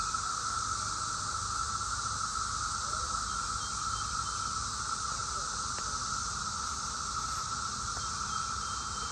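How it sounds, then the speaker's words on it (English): Cicadas buzz in a steady, unbroken high drone across a beekeeping bee yard in summer, moderately loud and constant throughout, with no talk. "Cicadas, listen to them."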